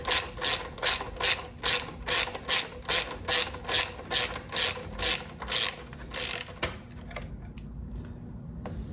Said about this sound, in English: you're gonna want to support the tail while you undo the last bolt.